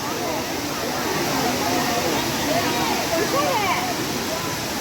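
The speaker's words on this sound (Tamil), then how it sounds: "திருநீர் அருவி" Steady rushing of water from a waterfall at Suruli Falls, a dense broadband roar heard close and continuous, with voices talking faintly over it.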